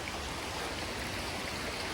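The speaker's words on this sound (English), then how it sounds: "I'm climbing this over this little creek because hopefully we can find a waterfall" Small creek flowing, a steady, close, full rush of running water with no breaks or talk.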